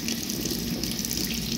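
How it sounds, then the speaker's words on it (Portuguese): Kitchen sink tap running water, a steady hissing stream splashing into the basin, close and continuous for the whole short stretch with no voices. "Aqui tem pia com água."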